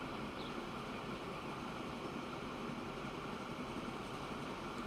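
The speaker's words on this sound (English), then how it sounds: "There's a passenger train going the other way." Passenger train in the Transport Fever 2 game rolling past in the opposite direction, a steady dense rumble with rail noise holding even and fairly loud for the whole stretch.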